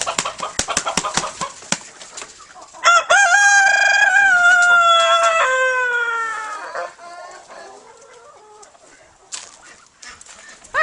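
A rooster crows loudly nearby, one long drawn-out call that trails off, surrounded by sharp clucks and scattered fowl noises.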